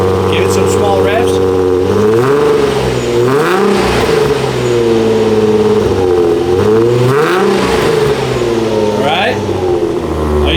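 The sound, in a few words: Nissan 350Z custom dual-valved X-pipe exhaust revving, valves closed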